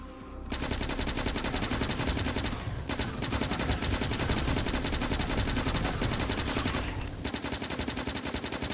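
Rapid automatic gunfire with armor-piercing rounds in Factorio rattles loudly and almost nonstop at biters, two brief pauses splitting the dense, steady stream of shots.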